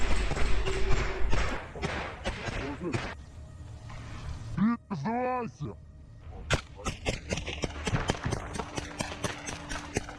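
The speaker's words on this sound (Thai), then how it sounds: "แล้วเสียงปืนดูเลย" Sharp gunshots crack out in a rapid, uneven series on the Pokrovsk front line in Ukraine, loud and close, with voices talking at moments and a few gaps between volleys.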